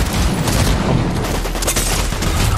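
Rapid, loud gunfire fills a Fortnite Chapter 5 Season 2 match in a dense continuous burst of overlapping shots and impacts, close and harsh, with no talking.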